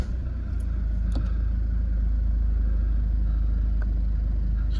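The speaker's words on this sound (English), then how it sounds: "Start the car up." A Jaguar XF 2.2 diesel Sportbrake automatic settles from start-up into a steady low engine rumble, heard close and continuous, with a few faint clicks and taps over the top.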